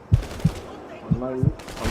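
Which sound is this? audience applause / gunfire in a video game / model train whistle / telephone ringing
gunfire in a video game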